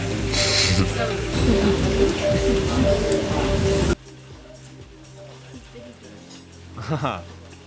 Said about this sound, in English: Yeah, we're getting rained on pretty good right now.